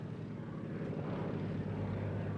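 An airplane carrying a wing-walking act drones steadily overhead, a continuous low propeller-engine hum with no voices.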